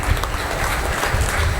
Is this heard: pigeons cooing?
no